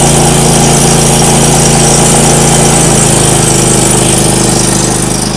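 A pressure washer's small gas engine warms up, running loud and steady close by with a whining squeal layered over the drone, alone without talk.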